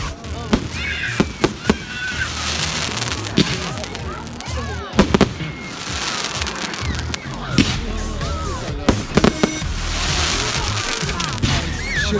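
Bonfire Night firework display with repeated sharp explosions and bangs scattered over a dense crackling, fizzing wash. The bursts come at irregular intervals, loud and fairly close. Voices and outdoor crowd noise carry on beneath.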